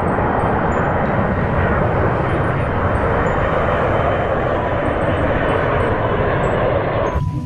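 A toy military airplane, switched on, gives a loud continuous motor drone that holds steady for several seconds before cutting off abruptly at the end.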